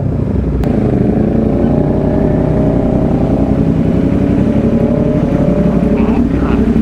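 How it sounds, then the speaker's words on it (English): A motorbike engine rumbles loud and close in rainy weather, a steady, unbroken growl that holds at constant strength throughout without a clear rise or fall. "Wow, now that's a bike."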